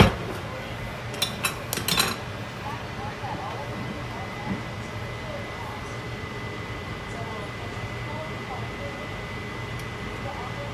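Plates and cutlery clink a few times in quick succession at the start while oxtails are being plated in a home kitchen, then a low steady hum of appliance noise carries on with only faint occasional knocks.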